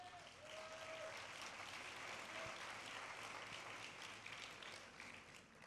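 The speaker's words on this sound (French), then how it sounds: "Il y a des étudiants dans la salle, c'est pour ça que ça applaudit." Students in a convention hall applaud continuously, a dense, even wash of clapping from a large crowd, heard at a moderate distance without noticeable peaks.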